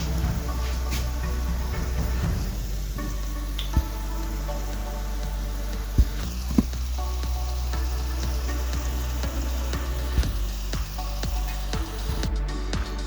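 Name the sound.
Jamaican fried dumplings frying in a pan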